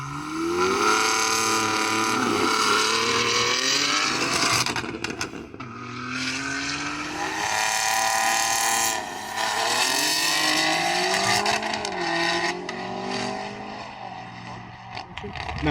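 BMW M3 G81 Touring launching hard on a drag strip, its engine roaring loud and close through a long rising pull that dips and climbs again, with talk over the top.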